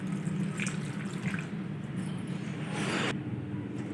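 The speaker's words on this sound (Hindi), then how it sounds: "अब मैं इसमें ऐड करूंगी 1 कप पानी।" A cup of water poured onto chopped tomatoes and garlic in a pressure cooker, a soft steady splashing and trickling that stops abruptly near the end, close and fairly quiet, no talk.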